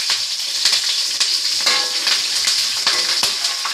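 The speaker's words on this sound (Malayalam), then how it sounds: "എന്നിട്ടൊന്ന് നന്നായിട്ട് നമുക്ക് ഇളക്കാം" Green chillies sizzle and frying in a pan for a cabbage thoran, with a steady bright hiss broken by repeated scraping clicks of stirring throughout.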